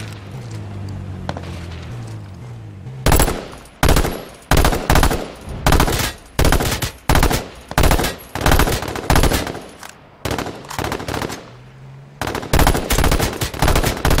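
Rapid bursts of loud gunfire from an H1Z1 shootout crack out in quick succession, a dense run of sharp automatic shots with brief gaps between volleys, close and dominant.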